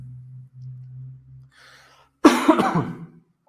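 A single burst of harsh coughing close by, a few rapid hacks after a stretch of low hum and quiet.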